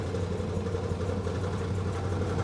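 A Ford Mondeo Mk3 engine idles steadily, a close, continuous low mechanical hum with no voices and an even rhythm throughout.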